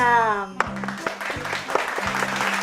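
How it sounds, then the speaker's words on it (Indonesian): Applause for the year 6 children at a church Sunday school Christmas programme, breaking out right after a brief sustained tone and carrying on as a steady spatter of claps with a low hum beneath. "Mari kita berikan tepukan gemuruh untuk adik-adik tahun 6"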